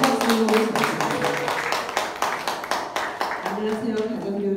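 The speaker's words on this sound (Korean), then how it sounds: "큰 박수 부탁드립니다." Audience applause at a Korea University future forum as a quilt artist is welcomed on stage, dense steady clapping filling the room throughout, with voices and cheering mixed in.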